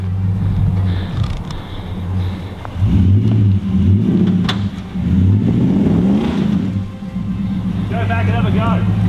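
A 4WD climbs Rocky Track in Toolangi State Forest, its engine loud and close, revving and surging in uneven bursts as it works over the rough ground, with voices talking over it.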